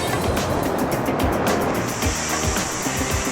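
Sea waves wash over the shore on Hiiumaa, a continuous loud broadband rush with surging crashes and heavy wind rumble close to the microphone, no voices heard.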